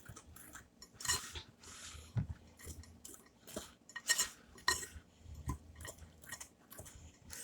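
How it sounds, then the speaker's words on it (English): Unsalted peanuts are stirred into a thick blondie batter in a bowl, making quiet irregular scraping and clinking from the utensil along with soft crunchy knocks from the hard nut pieces, close by with no talking. "And I will stir that in"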